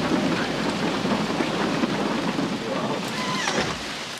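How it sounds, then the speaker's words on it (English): A summer thunderstorm heard from a cabin porch: heavy, steady rain pours loudly and close, with a thunder rumble rolling underneath throughout. "we made some hot tea and enjoyed our first summer thunderstorm from the cabin porch"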